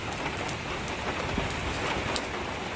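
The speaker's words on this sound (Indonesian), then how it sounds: "Diguyur hujan." Heavy rain pours down steadily outdoors in a village setting, a dense continuous hiss of drops drumming on surfaces, close and loud throughout with no talk.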